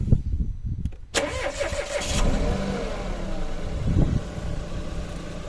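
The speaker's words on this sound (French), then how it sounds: "Ouh là là, on sent le 8 cylindres en ligne là." Inline eight-cylinder car engine cranking and catching, then running with a rough, throaty idle and a brief rev, close and fairly loud.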